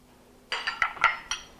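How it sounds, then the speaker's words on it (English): Ginger snaps, melted butter and sugar being mixed in a bowl, with a spoon tapping and clinking against the bowl a few times in quick succession, close and moderately loud, without speech. "I'm just going to mix this together, getting all those ginger snaps moist with the butter and distributing the sugar"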